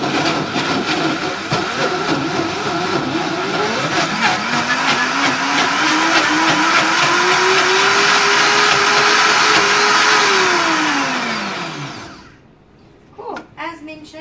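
An Optimum G2.1 blender running its sorbet program on a single-ingredient banana ice cream: a loud, steady motor whine climbs and then sags in pitch before cutting out, followed by a few light knocks.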